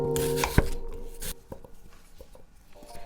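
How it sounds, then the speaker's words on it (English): A knife slices a peeled onion thinly on a cutting board while preparing nasi lemak, giving a few close, crisp chops and taps, loudest near the start and sparser afterward. "Slice the onion thinly horizontally."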